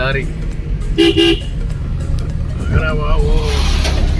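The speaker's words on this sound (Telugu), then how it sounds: "ఓ లారీ" A lorry on a hill road passes close by with a steady low engine rumble, while a horn toots briefly; a voice speaks over the traffic noise.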